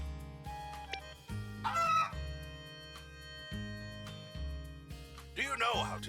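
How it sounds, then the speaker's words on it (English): A chicken in the Story of Seasons: Grand Bazaar farming game clucks and crows in short bursts over looping background music, with a voice speaking over part of it. "Hello, chicken."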